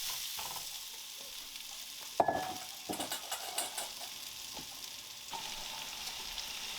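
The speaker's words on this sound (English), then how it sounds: "We're going to fry up some potatoes in there." Diced potatoes fry in drippings with a continuous crackling sizzle, a clunk of a utensil against the pan, then a few stirring scrapes, heard close with no one talking.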